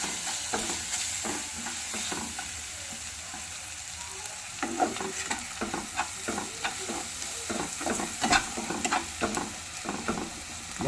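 Powdered spices, including Kashmiri chilli powder, sauté in a pan for chicken masala, a soft steady sizzle under repeated close scraping strokes of a spoon stirring them, with no talking.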